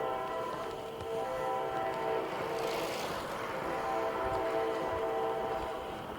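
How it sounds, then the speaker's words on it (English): A passing train on a line beside the Silver Comet Trail rumbles steadily with a sustained horn tone held throughout, moderately loud and somewhat distant, with no voices. "Hear the train."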